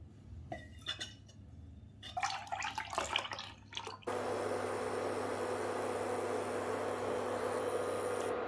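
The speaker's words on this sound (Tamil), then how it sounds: "இந்த கட்டியான பாலில் 1 கப் போல் தண்ணி சேர்த்துக்கணும். தண்ணி சேர்த்து மிக்ஸ் பண்ணி ஃபில்டர் பண்ணி எடுத்து வச்சுக்கலாம்." Thick milk mixed with water and strained for Kerala black halwa: a few light clinks and taps of utensils, then a steady, continuous stream of liquid pouring through a filter for several seconds.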